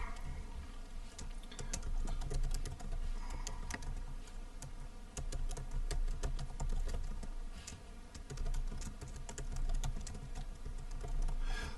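Continuous typing on a computer keyboard, with quick, close, clicky keystrokes running steadily for the whole stretch and only brief pauses between bursts.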